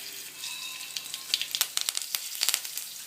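Curry leaves crackle and sizzle in hot oil, a steady frying hiss building into sharp, close pops in the second half, with no voices.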